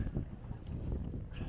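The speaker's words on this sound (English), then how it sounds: "Big gust came up, kind of blew us off." Wind gusts buffet a sailboat as it enters a sea lock on the Caledonian Canal, a rough, blustery rush with water sloshing beneath, close and continuous, no talk.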